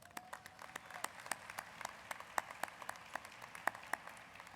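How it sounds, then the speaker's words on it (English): Applause for graduates' families at a fall commencement ceremony, a steady crowd clapping at moderate distance with scattered sharper individual claps standing out across the whole stretch. "A round of applause for the families."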